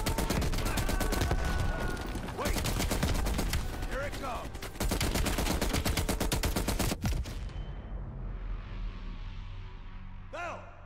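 Sustained M16 rifle fire in the Call of Duty Black Ops Cold War campaign, dense close shots for several seconds over a battle din, then fading into a quieter rumble, with voices talking under the fighting.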